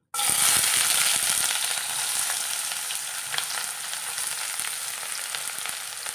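Onion frying in a pan with whole spices for a curry to serve with vellayappam, a loud steady sizzle that starts abruptly and holds throughout, with faint crackles and no talk.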